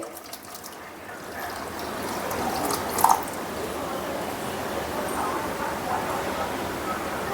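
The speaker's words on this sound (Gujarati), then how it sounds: "ચાળણી લઈ અને બધું ચાળી લઈશું આપણે ચાળી લઈશું આ રીતે અને બધું જ પાણી કાઢી લઈશું" Water drains from homemade cheese through a sieve in a steady, splashy trickle, with a brief clink of utensils around the middle.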